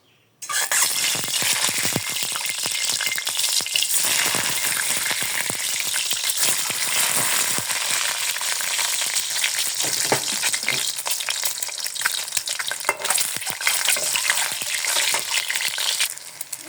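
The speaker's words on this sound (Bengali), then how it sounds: "কড়াই তাপে গেছে গা, ডিম দিয়ে দিই" Eggs fry in hot oil in a wok, a loud, steady, dense sizzle and crackle that fills the whole stretch close up, with faint spatula scrapes and no talk.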